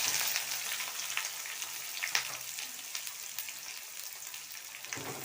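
Two large chopped onions fry in a pan with curry leaves for a cauliflower gravy, a steady close sizzle with faint crackles and occasional stirring, no voices.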